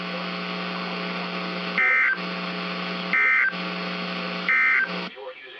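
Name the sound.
NOAA weather radio warning alarm tone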